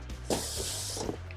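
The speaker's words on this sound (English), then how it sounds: "I got some engine cleaner. Spray this down." A can of engine cleaner hisses in one sustained burst of aerosol onto a Harley-Davidson Sportster, with a few small clicks and handling noises around it.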